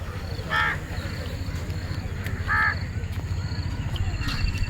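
Crows caw outdoors near the Adiyogi statue at Isha in Coimbatore, with two distinct calls a couple of seconds apart over a constant low background rumble.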